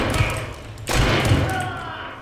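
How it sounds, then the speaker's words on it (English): A bomb lance arrow lands and blows up in a video game, a heavy thudding blast about midway through a rumbling noisy bed with voices talking. "Bomb lands."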